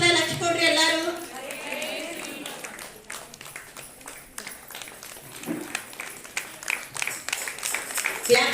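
An audience at a Purandara Dasa commemoration bhajan gathering breaks into applause. Scattered claps build toward the end and sound close by, with a voice speaking over them early on.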